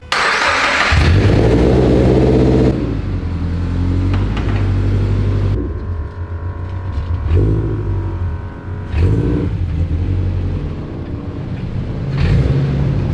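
A Toyota FRS engine runs loud and close, its low exhaust drone rising and falling with several revs and surges over about thirteen seconds.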